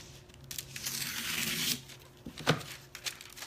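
Scissors cutting through foil pieces for a bronzed patina craft finish, with close, irregular crinkling and tearing rustles and a few sharper snips, loud and alone without talk.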